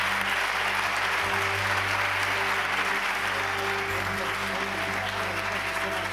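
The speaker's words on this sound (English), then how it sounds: "Let's give a round of applause for Peter Winninger." Sustained, dense applause from a large audience at a school spirit awards show, steady and loud from start to finish with no break.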